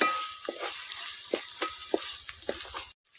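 Ginger-garlic paste fries in hot oil for a Malvani-style shark fish curry, a steady close sizzle broken by several sharp utensil scrapes and taps, then cutting abruptly to silence near the end.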